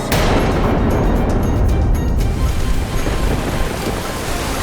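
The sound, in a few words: fearsome flood waves crashing, dramatized storm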